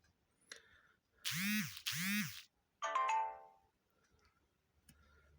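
A mobile phone starting up after charging plays a short, bright electronic startup melody in a few bursts, followed by quiet faint clicks.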